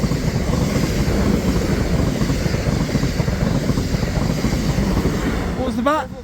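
A Class 444 train passes a level crossing at Liss Common, a loud, continuous rumble and rushing roar close by, with wind buffeting the microphone and people speaking briefly near the end.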